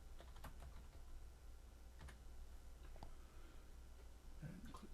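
Someone types a short word on a computer keyboard, a quiet, irregular run of soft key clicks over a low steady background hum.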